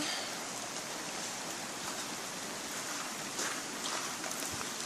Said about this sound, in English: I hear that roar. I don't know if it's coming across on the camera or not. It's another side over there that has water flowing.